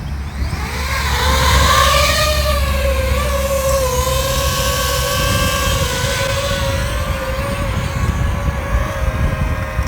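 A DJI FPV drone climbing into the air on a windy day, its motors rising to a loud, high-pitched whine that then settles into a steady close drone, with wind rumble beneath.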